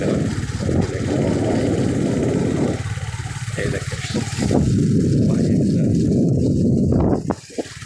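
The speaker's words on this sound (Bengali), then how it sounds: "আমি আছি মোটর সাইকেলে আমার বাইক চালাচ্ছে" Motorcycle riding at night near the Jamuna river, its engine a loud, steady, close drone with gentle rises and falls, cutting out briefly near the end.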